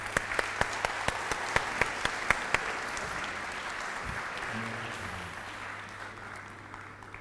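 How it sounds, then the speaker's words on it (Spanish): An audience at a book presentation bursts into applause, a few sharp distinct claps at the start swelling into steady, fairly close clapping that slowly fades. "para los que pido un fuerte aplauso, por favor"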